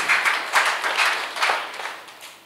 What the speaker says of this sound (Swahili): Kwaya yetu, tuwapigie makofi